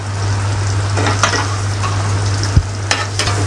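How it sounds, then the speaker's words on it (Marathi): Onions and curry leaves sauté in a pan for dal fry, giving a steady loud sizzle broken by the scrape and clink of stirring against the pan, with no talking. "या सगळ्याला चांगलं परतून घ्यायचं आहे कांदा थोडा लालसर झाला पाहिजे"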